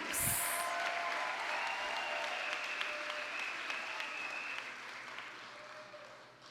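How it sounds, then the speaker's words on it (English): Guests at an awards gala give a round of applause for an honoree, a continuous, moderately distant wash of clapping with a brief whoop at the start that slowly fades toward the end. "please give a round of applause for Hector Vaca Cruz"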